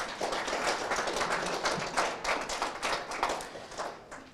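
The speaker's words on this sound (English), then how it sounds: "I would like you to give them a round of applause as well." Clapping from a gathered audience at a law enforcement class graduation celebration, a fairly soft, uneven patter of hands heard at some distance in a room.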